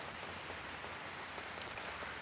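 Steady rain falls outdoors at night, a continuous even hiss of drops pattering on surfaces with no voices.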